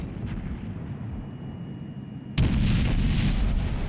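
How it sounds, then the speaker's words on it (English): Main guns of a Japanese destroyer in World of Warships fire in a sudden loud, booming burst that rolls on as a sustained roar after a stretch of low rumbling engine and sea ambience. "Alright, so there's the Japanese guns."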